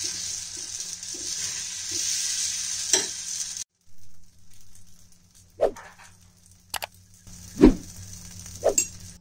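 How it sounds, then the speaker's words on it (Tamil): Dosa batter hits a hot pan with a hissing sizzle that cuts off abruptly, followed by quieter scraping and a few sharp knocks, with a dog barking briefly in the background. "நெக்ஸ்ட்டு பார்த்தீங்கன்னா தோசை ஊற்ற போகிறேன்."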